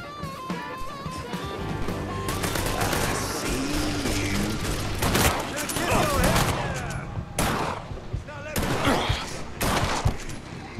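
Dense gunfire in the video game Mafia III, rapid repeated shots and bursts ringing out loudly over a continuous game soundscape, with a voice briefly talking in the mix.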